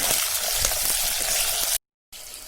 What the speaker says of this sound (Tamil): நாட்டு வெங்காயம், இது எல்லாத்தையும் வதக்கி எடுத்துக்கணும்